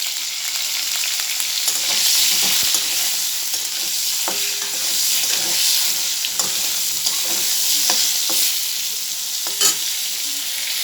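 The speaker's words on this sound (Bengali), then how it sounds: "পটলটা ভাজার জন্য অল্প নুন দিচ্ছি আর দিচ্ছি অল্প হলুদের গুঁড়া" Pointed gourd (potol) pieces frying in oil with salt and turmeric give a steady, close sizzle, broken by occasional clicks and scrapes of stirring.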